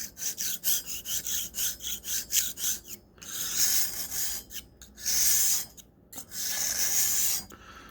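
A wire brush scrubs hard at caked-on grime on an engine part from a 1983 Porsche 944, in quick rhythmic rasping strokes that give way to longer sustained scrubbing passes, close and fairly loud with no talk.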